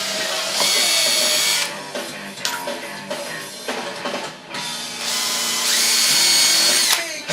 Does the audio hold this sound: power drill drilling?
yes